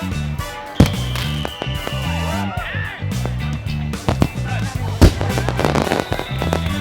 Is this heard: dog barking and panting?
no